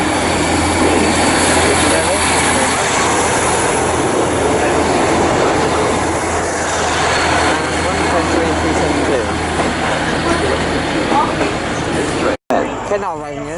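A Class 150 diesel unit rolls into Bristol Temple Meads station on the Great Western Main Line, with a loud, sustained rumble and wheel noise filling the platform and an abrupt cut near the end.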